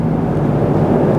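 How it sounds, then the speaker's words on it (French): Steady, even rumble of an airplane flying overhead, a continuous low drone that holds constant throughout with no speech. "il y a un avion juste au-dessus de moi"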